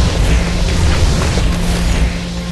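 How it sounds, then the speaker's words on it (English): A loud, sustained rumbling explosion from the Ori and the Blind Forest video game fills the whole moment with dense, continuous low booming and no pause. "your explosions hurt"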